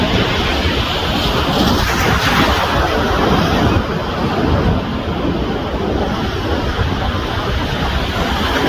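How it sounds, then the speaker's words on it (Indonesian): Ocean surf breaking on a beach at Narooma, New South Wales, during surf fishing, a continuous loud roar of waves with heavy wind buffeting the microphone throughout, no voices. "ombaknya luar biasa"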